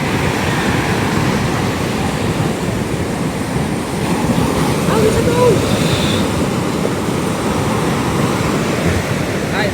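Ocean waves surge and crash steadily during a super typhoon, a dense roar of surf mixed with strong wind buffeting the microphone, loud and continuous for the full length with no talking.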